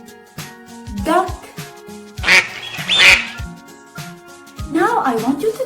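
A duck quacks in a few short bursts, fairly close, scattered between stretches of talk.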